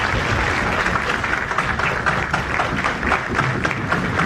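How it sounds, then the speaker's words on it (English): An audience at an international conference on lifelong learning applauds a guest: dense, loud, continuous clapping with a low rumble of room noise underneath, holding steady throughout. "a big round of applause for sir"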